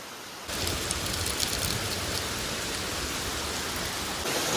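Rain falls at the Pokharbav Ganpati temple near Kankavli as a steady, even hiss of a downpour with no voices, swelling slightly just after the start.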